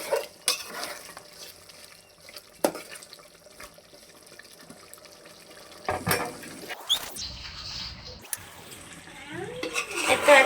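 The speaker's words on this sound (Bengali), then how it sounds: "এটা এখন আরেকবার ভালো করে নেড়ে ছেড়ে দিব" Meat for biryani is stirred in a pot with scraping clinks of a utensil against metal, soft sizzling and intermittent clatter, fairly quiet and close.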